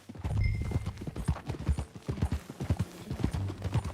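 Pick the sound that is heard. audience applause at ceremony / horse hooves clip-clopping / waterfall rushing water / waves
horse hooves clip-clopping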